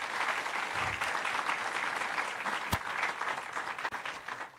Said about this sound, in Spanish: por favor, unos aplausos.